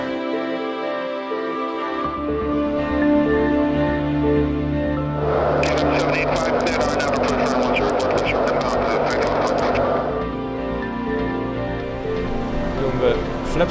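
Steady aircraft drone inside the cabin of a KLM Boeing 747-400 on landing approach to St Maarten, with a swell of broadband rushing noise midway, a constant engine hum beneath it and faint speech in the background.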